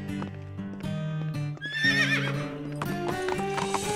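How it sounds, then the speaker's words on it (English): Cartoon horse sounds from the Horseland animated series: rhythmic clip-clopping hooves and a high, wavering neigh over a musical score, loud and close. "I'll saddle up her horse."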